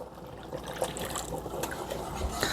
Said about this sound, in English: So I went ahead and dumped all that water in.